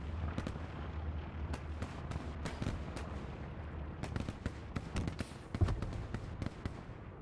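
Artillery shells landing in Hell Let Loose on the Hill 400 map: scattered sharp cracks and muffled thumps, fairly distant and quiet, popping irregularly over a low background rumble.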